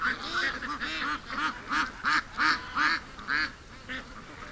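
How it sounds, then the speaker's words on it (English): Muscovy ducks on a grassy yard give a rapid series of about a dozen loud honking quacks in an uneven rhythm, close by, with no talk over them. "I don't know if you can hear much with all the quacking"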